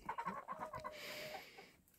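Chickens clucking softly nearby, a quick string of short calls followed by a longer drawn-out cackle, with no talking.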